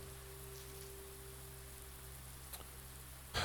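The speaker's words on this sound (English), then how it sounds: "apart from the sound of the water falling?" Steady splashing of falling water in the video game Blue Prince, a constant even hiss at moderate level, with a brief knock near the end.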